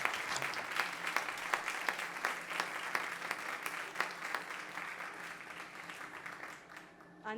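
A hall audience applauds a prize jury at an award ceremony, dense sustained clapping with sharp individual claps standing out, fading near the end before a final burst.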